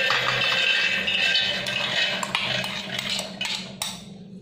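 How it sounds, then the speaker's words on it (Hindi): Green chickpeas being tipped into a large mixer jar: a close burst of small hard rattles and clinks against the jar, thinning out and stopping after a few seconds, with no talk. "और उसमें हम हरा चना डाल लेंगे।"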